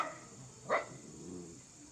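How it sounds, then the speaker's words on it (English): A dog gives one short, sharp bark, fairly faint and distant, over a low steady background hum. "D for dog."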